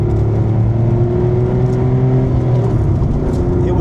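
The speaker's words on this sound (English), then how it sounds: "Driving a Porsche 964 Carrera 4." A Porsche 964 Carrera 4 engine with 376,000 miles drones steadily at close range while driving, a low sustained hum with even harmonics and road noise, holding a constant pace throughout.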